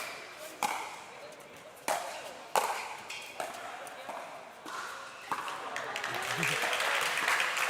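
Spectators at a pro pickleball singles match in Vietnam cheer and clap, rising into sustained applause near the end after a run of sharp paddle hits and ball bounces.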